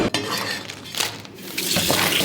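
Running water from a tap splashing over a West African green lobster as it is rinsed in a sink, a steady close watery rush that grows louder toward the end.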